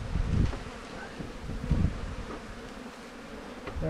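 Honeybees buzzing around hives in a bee yard, a close, continuous swarm hum with brief louder swells as individual bees pass near.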